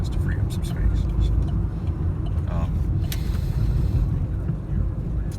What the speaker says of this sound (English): Car seems to be idling a little differently than it was before.